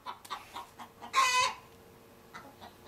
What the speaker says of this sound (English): this is the problem with sitting outside trying to shoot a video, is the chickens always like to interrupt